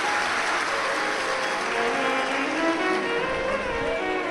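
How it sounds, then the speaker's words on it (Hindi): Loud, sustained applause from a large crowd at a religious discourse gathering, a dense continuous roar of clapping that holds steady throughout. "एक बार जोरदार ताली बजाकर इनके लिए साधु का"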